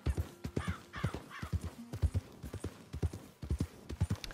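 Horse hooves clip-clopping in the video game Red Dead Redemption 2, a steady, fairly close trotting rhythm of hollow knocks with a brief neigh near the start and no voices.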